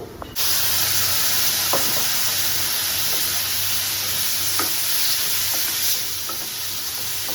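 Steady, loud sizzling of food frying in a pan with little oil, with a few light scrapes of stirring over the continuous hiss.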